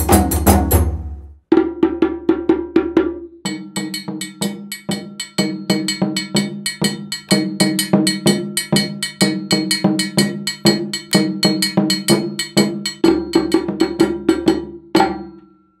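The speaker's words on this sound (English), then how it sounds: "So, what you just heard is a rhythm called Konden." Djembe and dunun drums play the Konden rhythm from northeast Guinea, crisp slaps and tones over a deep dunun pulse with a bright bell-like clank, steady and close, with no talking.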